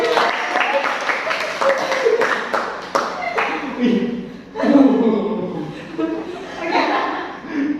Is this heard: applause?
yes